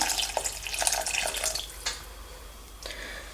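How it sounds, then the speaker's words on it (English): Rice washing water poured into a cooking pan of okra curry, a light splashing and trickling pour with a few brief louder gushes, fairly quiet and close. "I'm going to pour rice washed water."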